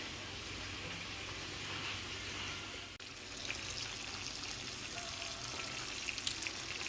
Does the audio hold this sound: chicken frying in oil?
yes